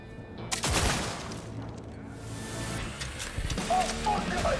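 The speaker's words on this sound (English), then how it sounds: "What happens if I shoot this gun?" Gunfire in the video game Cyberpunk 2077, several loud sharp shots at the start followed by a dense, noisy game soundscape and further bursts near the end, with a voice talking over it.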